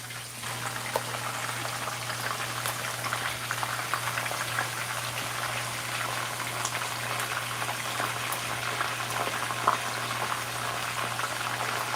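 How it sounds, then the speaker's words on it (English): Fish fries in a pot of hot oil on the stove, giving a steady, dense crackle and sizzle with scattered pops throughout, close and without talk. "we'll fry the fish for about 2 minutes on each side, or until each side is nice and crispy"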